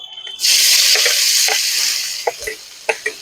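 Chopped onions hit hot oil already seasoned with black cumin, chili and bay leaf, sending up a loud, steady sizzle with a few spoon-stirring scrapes and clicks toward the end, no voices.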